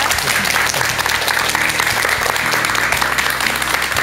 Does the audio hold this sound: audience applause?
yes